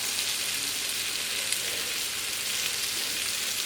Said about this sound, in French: je vais les faire dorer un petit peu dans mon wok avec une noix de beurre